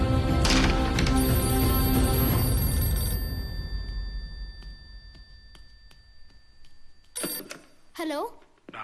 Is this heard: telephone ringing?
yes